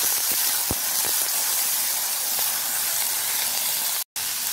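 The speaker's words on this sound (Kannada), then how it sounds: "ಅರ್ಧ ಟೊಮೆಟೊ ಹಾಕಿ ಫ್ರೈ ಮಾಡ್ಕೊಳ್ಳಿ" Half a tomato and vegetables fry in a pan for hotel-style khara bath, giving a steady, loud, close hiss with a few faint clinks and a brief dropout near the end.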